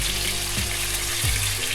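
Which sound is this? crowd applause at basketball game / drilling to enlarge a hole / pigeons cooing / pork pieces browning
pork pieces browning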